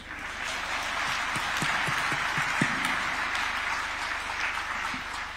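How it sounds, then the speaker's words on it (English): A large crowd applauds for the President at the Katiba Day celebration at KICC, a steady, fairly distant wash of clapping with a few sharper claps standing out near the front. "I want to hear a round of applause for the President"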